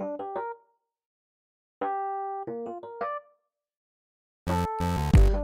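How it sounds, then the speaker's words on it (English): A synth bass riff from a cover built in the MASSIVE synthesizer: short plucky phrases separated by silences, ending in a louder, denser burst of sustained tones, close and alone. "today I'll be teaching you guys how to make this synth bass sound"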